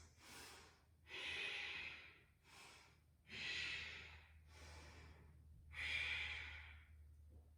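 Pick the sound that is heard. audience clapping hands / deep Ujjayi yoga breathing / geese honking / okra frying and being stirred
deep Ujjayi yoga breathing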